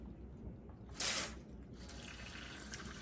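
Water runs briefly from a tap to rinse freshly collected sea glass and sand, a loud rushing burst of about half a second standing out from a faint, steady background hiss.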